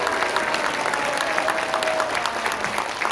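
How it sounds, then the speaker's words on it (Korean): A crowd at a Korean political gathering breaks into sustained applause after a speech. The clapping is dense and continuous, with a faint tone running beneath it. "다시 한번 뜨거운 박수를 보내주시기 바랍니다."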